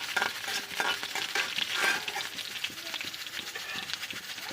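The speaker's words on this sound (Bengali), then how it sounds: "এখানে পেঁয়াজ লাল হতে দিয়েছি, শুকনো লঙ্কা দিয়ে" Onions and dried red chillies fry in hot oil for a vegetable curry, giving a steady sizzle with scraping stir strokes near and fairly loud, and no talking.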